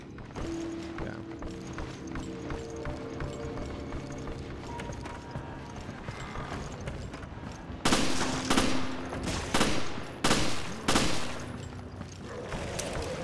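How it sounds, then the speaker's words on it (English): Gunfire against enemies in Resident Evil Revelations. A low rumbling game soundscape gives way to loud, broadband shots, several distinct bursts at irregular intervals, fairly close and dominant. "Oh, they're shooting enemies."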